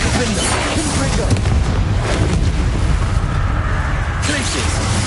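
Bombarda and Confringo explosion spells in the Hogwarts Legacy video game: dense, loud blasts and rumbling booms fill the clip, with a voice shouting spell names over the din.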